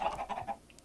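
Short clucking calls from chickens in a video game, a few quick soft notes close together, then a faint final chirp, fairly quiet.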